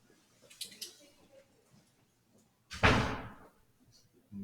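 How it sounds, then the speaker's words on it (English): A door is pushed shut with a single solid thud and a short rattle of its frame, preceded by quiet movement and faint room noise. "I'm going to shut the door."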